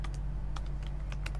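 Quick, irregular keystrokes on a computer keyboard click over a steady low electrical hum, close by with no talking.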